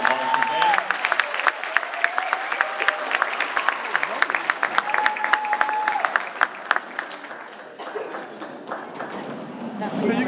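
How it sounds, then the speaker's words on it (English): A crowd applauds the 2016 Belmont High School Marching Band with loud, dense clapping and scattered cheers. It sustains for about eight seconds, then thins and tapers off. "How about another round of applause for the 2016 Belmont High School Marching Band?"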